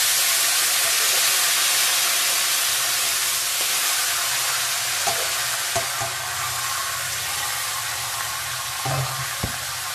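Dried chillies, a bay leaf, panch phoron and chopped ash gourd fry in hot oil, a steady bright sizzle running the whole time with a few soft stirring knocks near the end.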